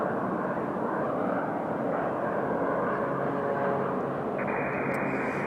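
An Embraer E-175 jet at Raleigh-Durham International Airport roars steadily and close by, a loud broadband engine rush that stays constant throughout, with no talking over it.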